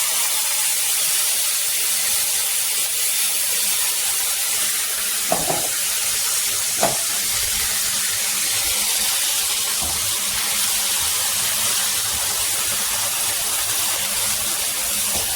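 Ground masala sizzling in hot coconut oil, a loud, steady, dense hiss that fills the whole span, with a couple of faint clinks and no talking.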